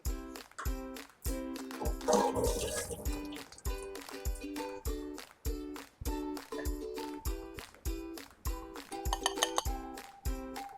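Boiled carrot and zucchini strained from cold water in a kitchen, with a series of sharp metallic clinks and wet knocks from a strainer and utensils, close and rhythmic, alongside dripping and sloshing.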